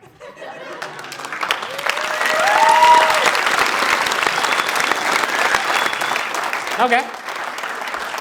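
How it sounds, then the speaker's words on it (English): Audience applause at a comedy show, a mix of enthusiastic and tentative claps building to a peak and then sustained, with a few chuckles and a spoken voice over the clapping near the end. "Some enthusiastic, some tentative claps."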